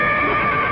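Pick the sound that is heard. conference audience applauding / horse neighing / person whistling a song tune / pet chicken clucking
horse neighing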